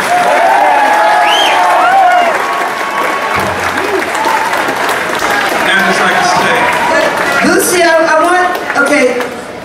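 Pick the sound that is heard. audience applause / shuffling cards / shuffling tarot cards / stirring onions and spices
audience applause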